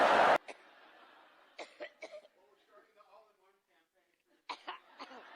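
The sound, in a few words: coughing fit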